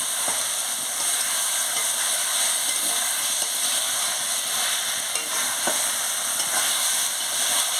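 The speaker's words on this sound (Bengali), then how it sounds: "আলু আর এই ঝিঙেগুলোকে ভালো করে কষিয়ে নিচ্ছি" Potatoes and ridge gourd sautéing in a pan for jhinge posto give off a steady, close sizzle and hiss, with faint scraping stirs now and then and no talking.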